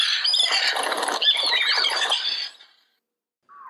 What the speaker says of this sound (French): on entend dans la forêt de grands bruits d'ailes et des centaines de perroquets. Ils croassent la bonne nouvelle